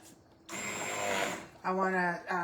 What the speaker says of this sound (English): So what I want to do now is take my blender and I want to